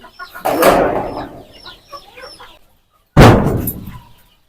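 Domestic chickens and young native-breed chicks cluck in a partitioned poultry house on a farm, in two loud close bursts with softer calls between them.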